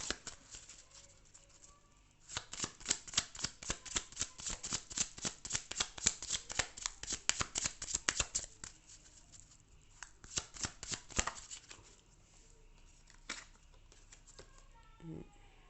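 Tarot cards shuffled and drawn during a cartomancy reading: a dense run of rapid, crisp riffling clicks that swells for about ten seconds, then thins to a few scattered card snaps and handling sounds.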